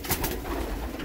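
Pigeons coo in a loft, close and fairly loud, with short repeated throaty calls and a light rustling behind them over about a second.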